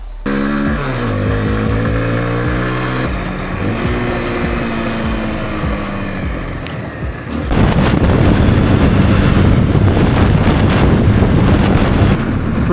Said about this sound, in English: Pretty bloody windy right now.